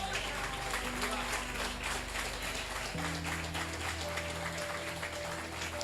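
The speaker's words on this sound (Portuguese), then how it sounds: "Aplauda o Senhor pela vida dela." Church congregation applauding the Lord during a Portuguese-language evangelical service, dense clapping running steadily throughout over sustained organ or keyboard tones that shift chords midway.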